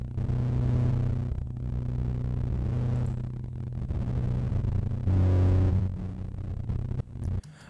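Piano run through a heavy distortion chain in Ableton Live 11, one part duplicated an octave lower, comes out as a thick, roaring, buzzy wall of sound with a dense low drone that swells and ends abruptly.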